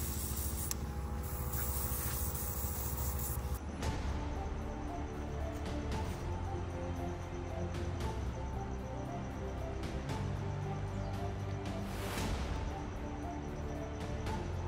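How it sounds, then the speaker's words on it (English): An airbrush driven by a compressor sprays pearl blue paint as a base coat on a custom toy figure, giving a steady close hiss. It starts softer and becomes fuller after the first few seconds, with small surges throughout. "With my new airbrush and compressor, this is gonna be a dream."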